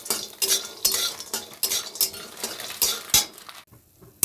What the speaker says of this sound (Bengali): বেগুনের তেল ছিল তাতেই বড়ি দিয়ে দিলাম